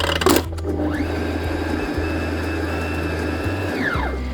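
An electric mixer whirs through banana bread batter, ramping up to a steady mechanical hum with a rising and falling whine, close and continuous for about three seconds before winding down, after a brief clatter at the start.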